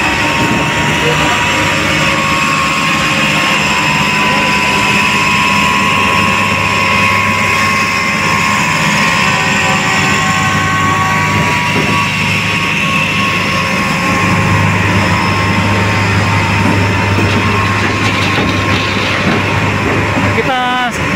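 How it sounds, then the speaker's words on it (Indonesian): Heavy crane machine carrying railway sleepers on a high-speed rail construction site at Tegaluar, a loud, continuous engine drone with steady mechanical hum throughout, nearby and constant. "Ada kegiatan dari mesin kren yang membawa"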